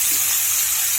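Chopped garlic sizzles in hot white oil while chicken chow mein is being cooked, making a steady, loud, bright hiss with no talk.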